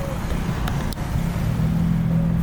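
Street traffic passes a roadside bus stop in Nicaragua, with a steady rumble of cars and engines nearby and a voice speaking briefly over it.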